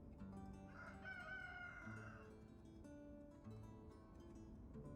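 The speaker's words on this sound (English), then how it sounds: "Now we have a new sound effect in the background, the rooster." A rooster crows once in a long drawn-out call in the village-building video game Ostriv, over a steady busy background hum, fairly clear and mid-distance.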